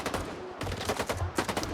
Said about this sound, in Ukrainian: По свиням стріляють.